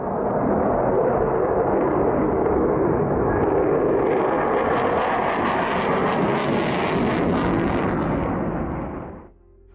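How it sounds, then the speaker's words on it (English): Sukhoi Su-57 stealth jet fighter flying, a loud, sustained roar with rumbling thunder and rising hiss that builds over several seconds, then cuts off abruptly near the end; no voices. "The country developed the Su-57, a stealth jet fighter that is said to be a match for modern Western fighters."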